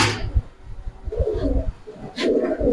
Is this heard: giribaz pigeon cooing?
yes